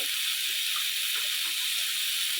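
Tomatoes sautéing in a pan for tawa prawns on banana leaf give a steady, moderately quiet hiss and sizzle that holds evenly throughout, with no talk over it.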